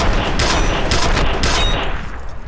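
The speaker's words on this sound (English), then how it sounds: "Who shot me from over there?" Gunfire in F.E.A.R., a loud dense burst of rapid shots repeating in quick bursts over constant game din, close and without talking.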